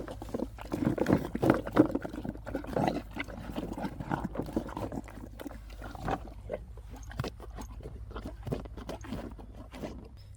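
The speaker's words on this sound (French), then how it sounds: "ASMR, cheval baveux." A horse chewing a treat and slobbering, with wet smacking, slurping and crunching that comes in irregular bursts close up, loudest at first and then quieter.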